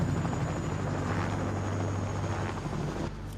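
A helicopter, white with blue stripes, approaches with a loud, steady rotor drone and low thrum that fills the whole stretch, easing off slightly at the very end.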